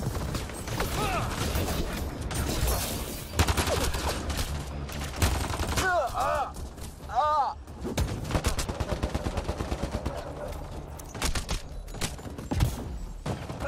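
Sustained rapid gunfire in a Mass Effect Andromeda battle, dense bursts and repeated shots running throughout with mechanical clatter, plus brief shouted voices in the middle of the fight.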